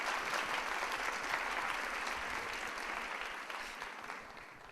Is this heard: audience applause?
yes